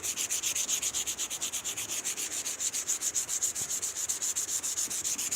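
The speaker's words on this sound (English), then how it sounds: "You can wet sand as much as you like." Truck paint being wet sanded by hand: a fast, even back-and-forth rasping, close and steady, with about six strokes per second and no pauses.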